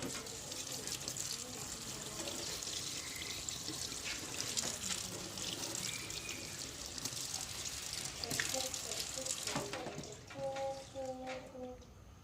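Tap water runs steadily through the whole stretch as hands are washed at a sink, a continuous hiss with faint clatters and a few tonal squeaks near the end, with a voice faintly present in the background.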